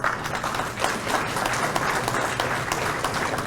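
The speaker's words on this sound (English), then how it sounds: "So, round of applause." A convention audience of township officials applauds a firefighter, a steady wash of many hands clapping in a large room for several seconds with a faint voice underneath.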